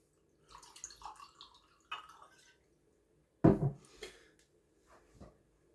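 Smokehead whisky splashes into a glass in a few short, soft bursts, with a brief louder gush partway through and faint drips at the end, in a quiet room.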